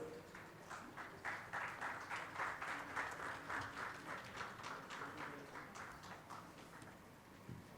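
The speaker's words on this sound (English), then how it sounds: "Ladies and gentlemen, let's have a huge round of applause for him as well," An audience at an ideas conclave applauds an award recipient, scattered individual claps forming an uneven, pulsing patter that is faint and distant, tapering off toward the end.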